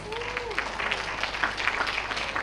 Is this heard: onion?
no